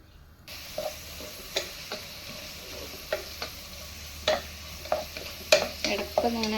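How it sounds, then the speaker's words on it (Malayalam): A spoon scrapes and stirs chicken curry with onions in a pan, giving intermittent clinks and scrapes over a soft steady sizzle of frying, close and fairly quiet, with no talking. "ഇടയ്ക്കൊന്ന് ഇങ്ങനെ ഇളക്കി കൊടുക്കാം"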